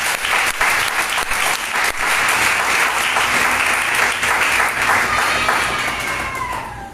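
A church congregation in Panama bursts into loud, sustained applause, with thick continuous clapping and faint voices mixed in throughout.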